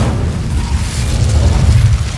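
An Incendio fire spell is cast in Hogwarts Legacy, giving a sustained low, rumbling roar with a rough, whooshing edge that holds loud and steady throughout, without speech.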